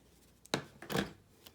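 Scissors trim card paper in two close, quick snips, one short and one slightly longer, against a quiet background.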